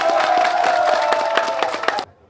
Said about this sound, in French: que je souhaiterais que vous l'acclamez très fort.